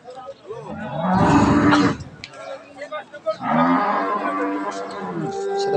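Jersey Friesian dairy cow mooing at a crowded cattle market, two long loud moos a couple of seconds apart, with market chatter and voices faintly underneath.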